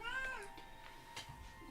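A pet cat meows softly indoors during a live game stream, a short faint call rising over a low steady background hum with a few faint ticks.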